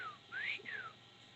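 A person whistles a rising then falling tone to imitate a mysterious repeated noise heard at night, two sliding whistled notes, close and fairly quiet, with no talk.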